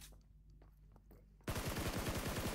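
Gunfire in the PUBG Mobile video game, a sudden burst of rapid automatic shots after a quiet stretch with faint movement sounds, loud and close with a dense, rattling rhythm.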